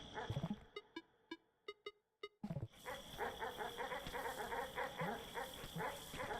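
Dogs barking in the video game Animal Well: a few spaced yaps, then a brief pause, followed by a dense run of rapid barking from several dogs, close and moderately loud, with no talk.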